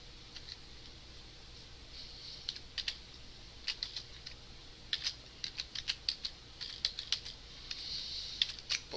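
JavaScript code is typed on a computer keyboard, with sparse clicks at first that turn into quicker, denser bursts of keystrokes, close and clear over a faint steady room hum.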